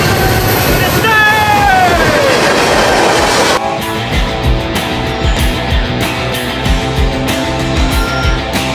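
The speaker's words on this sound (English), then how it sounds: "first train of the day, SD70M, roll it" CSX freight train led by an SD70M locomotive passing close by, a loud rolling rumble with wheel squeal early, then steady rhythmic clatter of cars.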